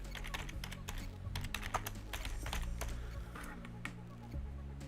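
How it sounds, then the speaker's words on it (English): Rapid clattering keystrokes on a computer keyboard as a search is typed, a steady close run of clicks over a low background hum, with no talking. "Okay, so if we type in Charlene and the word"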